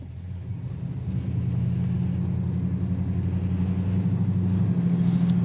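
A 1970 El Camino's engine drones steadily on a test drive at about 35 mph, a low, even rumble that swells slightly as the road noise carries on beneath it.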